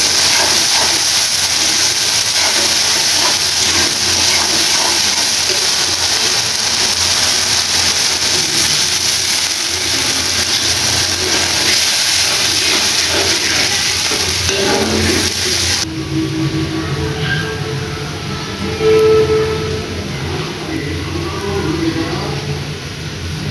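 Fish and plenty of onions frying (bhuna style) in a village kitchen give a loud, continuous sizzling hiss that drops to a softer, lower crackle partway through, with no talking.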